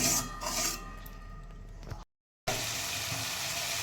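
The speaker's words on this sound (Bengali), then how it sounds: "এবারে টমেটোটা একটু গলে যাবে মশলাটাও কষানো হোক ততক্ষণ" Spice masala with tomato and salt frying in a pan for a vegetarian jackfruit curry, a steady close sizzle with scraping, broken by a brief silent gap before the frying resumes.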